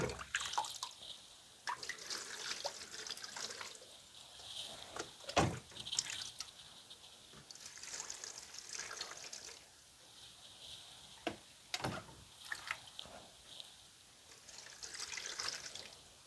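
Water is poured into a tray to bottom-water indoor tomato seedlings: a faint, close trickle with scattered drips and small splashes, no voices.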